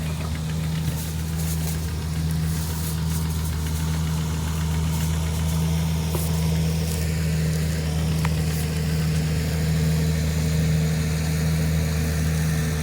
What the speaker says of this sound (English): Also a 1947 FARMALL A, John Reed